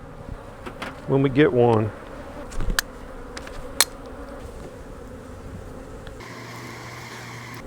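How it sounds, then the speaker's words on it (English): Honey bees buzz around an open hive during a swarm cell transplant and honey super check, a steady drone with a brief louder hum close by, a few sharp knocks and short speech. "So these are going to be nurse bees right here."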